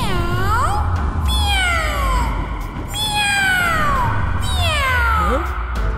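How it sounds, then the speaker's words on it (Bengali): A cartoon cat meows again and again, several drawn-out meows with falling pitch arriving close and loud in quick succession over a low background hum. "এই বিড়ালের ডাক কোত্থেকে আসছে?"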